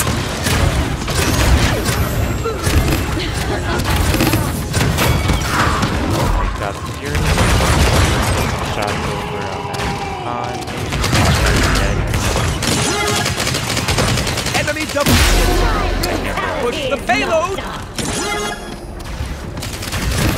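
Dense, rapid gunfire and booming hits from a Paladins match, playing Ying, keep going in overlapping bursts for the whole stretch, loud and close, with a player talking over parts of it.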